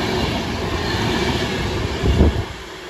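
A Class 390 train bound from Manchester Piccadilly to London Euston rumbles past, its steady wheel and rail noise holding throughout, with a louder low thump near the end.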